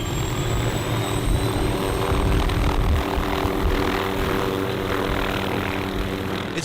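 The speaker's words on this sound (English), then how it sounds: "We're gonna stand here and watch the helicopter start" An MD-500 helicopter runs close by with a loud, steady turbine whine and rotor drone that holds evenly throughout, with no talk.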